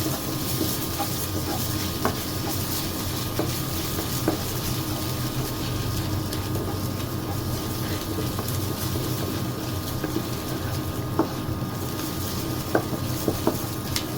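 Chopped garlic sizzles steadily in a hot pan while beef broccoli is being cooked, a continuous close frying hiss with a few faint clinks of utensils.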